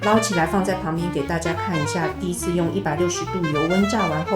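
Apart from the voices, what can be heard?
No everyday noises stand out.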